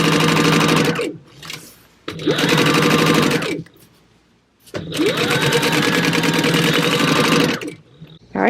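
Sewing machine stitching fabric along a quarter-inch seam allowance at stitch length 3, running in loud, close bursts of whirring stitches separated by brief pauses.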